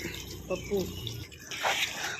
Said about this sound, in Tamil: இப்போ தான் தண்ணி ஊற்றுறாங்க